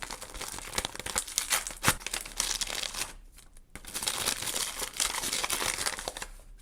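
A paper surprise packet of capybara-room collectible toys is torn open and crinkled close up, in a busy run of crackling rustles with a brief pause partway through and no speech.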